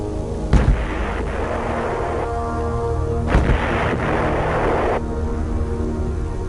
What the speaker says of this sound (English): call in supporting fire from the Army's huge 175mm self-propelled guns